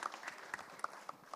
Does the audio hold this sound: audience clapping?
yes